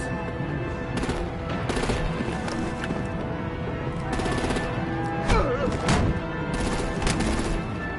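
Rapid bursts of gunfire and heavy impacts crackle through a busy battle scene in Telltale's Batman video game, with repeated sharp shots layered over constant rumbling noise.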